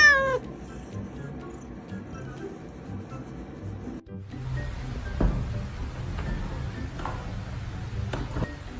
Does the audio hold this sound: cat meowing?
yes